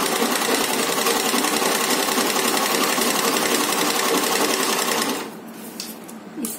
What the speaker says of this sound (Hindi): अब इसकी हम सिलाई करेंगे